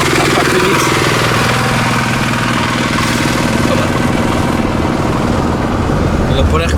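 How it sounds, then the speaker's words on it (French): A small walking tractor (motoculteur) ridden in rural Japan chugs with a loud, steady engine rattle and rapid pulsing throb that stays close throughout, with a voice talking over it. "Rouler sur un motoculteur."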